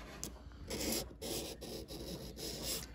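Knife blade rubbed across sandpaper while being sharpened at a slight angle, repeated rasping strokes close to the mic with brief gaps between passes.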